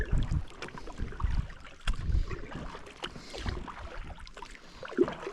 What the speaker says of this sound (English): I'm using my double-bladed paddle